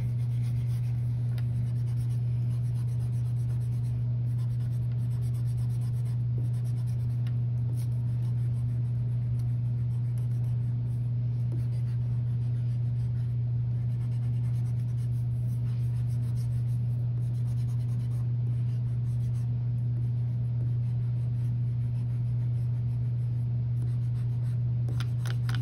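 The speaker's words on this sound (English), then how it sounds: "Just grab your marker again and make sure to get those lines." A marker drawing lines on paper during an art lesson, a continuous soft scratchy rubbing under a loud steady electrical hum.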